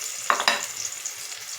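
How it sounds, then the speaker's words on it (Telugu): Pieces frying in a pan are flipped to cook the other side, with two quick scraping clatters of turning followed by a soft, continuous sizzle close by. "ఒక సైడ్ ఫ్రై అయిన తర్వాత మళ్ళీ రెండో సైడ్ కూడా టర్న్ చేసుకుని ఫ్రై అయ్యేలా."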